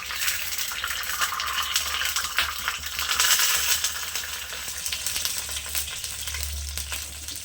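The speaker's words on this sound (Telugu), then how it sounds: "ఈ తాలింపులో కొద్దిగా వాటర్ పోసుకుందాము." Green chilies sizzle loudly in hot tempering oil as a little water is poured in, a steady bright crackle and hiss with a stronger burst midway and low cooking rumble underneath.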